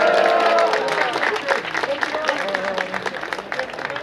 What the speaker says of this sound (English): So one final round of applause for these.